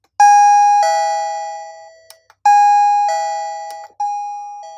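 A plug-in wireless doorbell receiver plays a loud, clear electronic ding-dong chime twice, each two-tone ring sustaining and decaying before a brief gap and repeat, with no voices.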